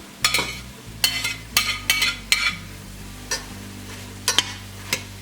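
Chopped bell pepper, green onions and red onion cooking in a pan, a soft sizzle broken by a series of sharp scraping and clinking stirring strokes against the pan, close by and without speech.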